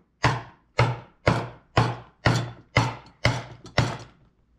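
Seven evenly spaced metallic strikes of a ball peen hammer on a sculpture armature ring out one after another, each sharp and close with a short decay, no talking.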